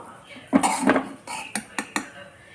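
A lid goes onto a pan over a Kerala-style chicken pathiri, giving a cluster of close metallic clanks and scrapes followed by three short, sharp clinks, in a quiet kitchen with a faint voice behind.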